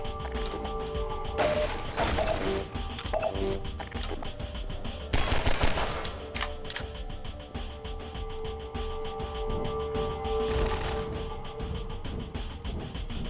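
Enemy gunfire in Half-Life 2, with repeated bursts of shots and sharp cracks, several loud volleys scattered over a noisy, steady battle backdrop.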